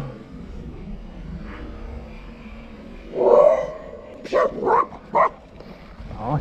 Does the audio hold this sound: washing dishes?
no